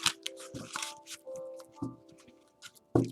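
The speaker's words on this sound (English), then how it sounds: "Just a light shuffle while I tune in." Tarot cards are given a light shuffle, producing soft, irregular flicks and riffles with brief pauses, quiet and close, with no talking.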